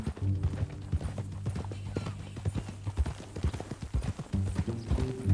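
Horse hooves clop steadily in Red Dead Redemption 2, a close, rhythmic run of hoofbeats over a low droning game backdrop, with no talking.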